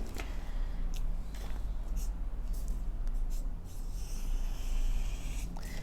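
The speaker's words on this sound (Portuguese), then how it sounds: "eu faço aqui a mão livre, com uma caneta que eu consiga visualizar melhor essa curvatura" Pen drawn freehand across fabric to mark a curve while sewing a shirt dress, a soft continuous scratchy rubbing close by over steady background noise.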